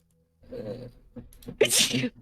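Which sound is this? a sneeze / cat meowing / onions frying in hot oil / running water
a sneeze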